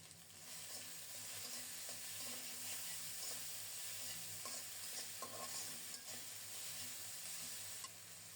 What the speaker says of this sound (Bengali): খুব সুন্দর মতো আদা রসুন ভাজা হয়ে গেছে